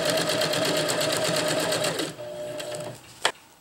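A sewing machine runs rapidly stitching a seam that encloses frayed edges on a fabric stuff sack, a dense rhythmic whir that slows and stops, followed by a single sharp click.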